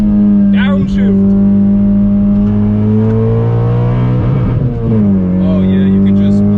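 A 9th-generation Honda Civic Si Coupe downshifts, its engine note dipping and then climbing as it accelerates out of a corner. The sound is loud and close, heard from inside the car.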